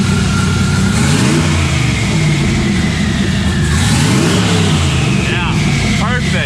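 A tuned car on a shop dyno revs hard, its engine note rising and falling over a loud steady drone, with someone speaking briefly over it.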